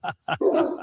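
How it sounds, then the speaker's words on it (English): Great Danes bark loudly nearby in two short, deep bursts, then a longer growling bark, with a person speaking briefly over them. "Pardon the loud dogs in the background there."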